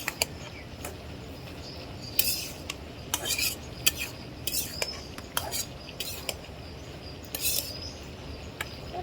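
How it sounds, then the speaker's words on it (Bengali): Dried fish curry is stirred in a cooking pot, with a utensil giving intermittent metallic scrapes and clinks against the pot, close and moderately loud over a soft background hum. "আবার কিছুক্ষণ পরে চলে আসলাম, তো নাড়া দিব।"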